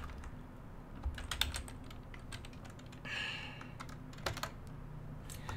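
Soft keystrokes on a computer keyboard come in scattered bursts and short runs, with a denser flurry partway through, quiet and close with no voices.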